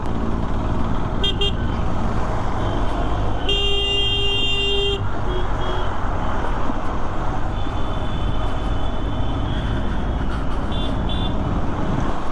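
Slow-moving road traffic with cars and trucks creeping along a congested highway, a steady close engine-and-road rumble with a single car horn sounding prominently for about a second and fainter honks later.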